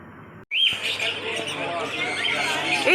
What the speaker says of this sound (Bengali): দেখতে পাচ্ছেন কত রকমের পাখি রয়েছে। এই দেখুন পায়রা